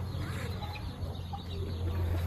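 A rooster clucks in low, repeated murmurs close by amid steady background noise, the soft calls continuing across the short stretch.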